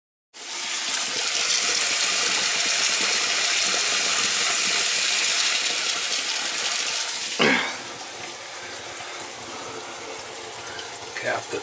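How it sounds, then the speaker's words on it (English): Water gushes loudly from a leaking faucet for about seven seconds, a broad steady rush that then drops to a quieter trickle with clunks and handling noises. "it's the faucet that's leaking"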